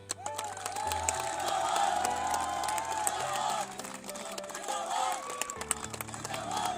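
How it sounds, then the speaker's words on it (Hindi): Audience at a felicitation ceremony for a girl selected to the Delhi Police giving loud applause, mixed with cheering, crowd noise and a tonal electronic hum, while voices carry over it. "जोरदार तालियां"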